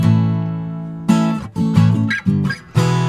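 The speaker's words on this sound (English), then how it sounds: "you can hear the string noise" An acoustic instrument recorded through an AKG P420 microphone: close, loud sustained notes with bright scraping string noise and finger squeaks between repeated attacks, no voices.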